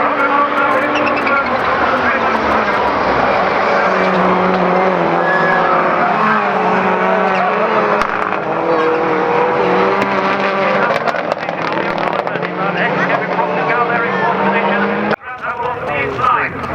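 Rallycross race cars at Croft circuit roaring continuously through a lap, engines loud and sustained with shifting pitch as they pass, under a commentator's fast speech.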